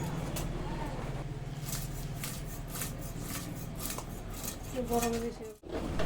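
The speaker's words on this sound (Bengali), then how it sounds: "এদিকে ইলিশ মাছ কাটার পর্ব চলছে" Hilsa fish being cut in a kitchen while preparing hilsa paturi, with repeated metallic knife and utensil clinks and scrapes close by, and a low murmur of voices in the background.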